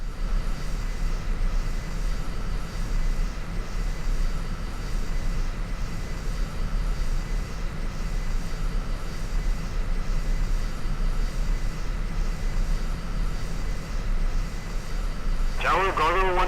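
Fighter jets in Energy Airforce aimStrike roaring steadily as they take off, a loud, continuous engine drone that holds level throughout, with a brief rising whine near the end.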